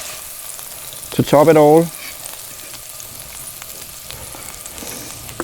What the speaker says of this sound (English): The last thing we need when the stew is done is the fried eggs